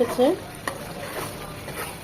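A spice sauce for tandoori chicken is stirred in a pan, giving a brief soft scrape and faint sizzle, with a short voiced sound at the start.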